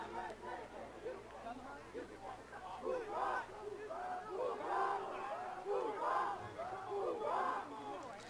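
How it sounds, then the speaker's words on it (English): Rivera Raiders fans cheering and yelling in the stands at a football game in Sam Stadium, a swelling crowd roar of many voices in waves of shouts, moderately distant and continuous. "Rivera Raiders fans cheering for their team"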